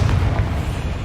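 A Confringo fire spell explodes in Hogwarts Legacy, a brief loud, deep rumbling boom that stays dense and sustained throughout.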